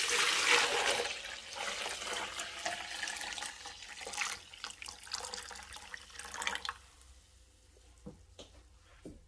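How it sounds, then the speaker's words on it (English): Milk pours into a Yogotherm yogurt container in a steady liquid gush that fills the first several seconds, then tapers off into a few faint drips and light knocks. "Firstly, we're going to pour the milk into the container."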